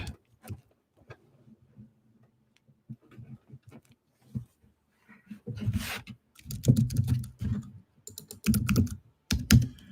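Someone types on a computer keyboard, sparse soft clicks at first, then denser bursts of close, rapid keystrokes in uneven clusters.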